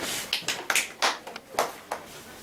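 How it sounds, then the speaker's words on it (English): A grade 4 class claps hands for a classmate in a scattered, uneven way, with a handful of sharp separate claps spaced irregularly rather than a continuous ovation. "Can you clap hands for him?"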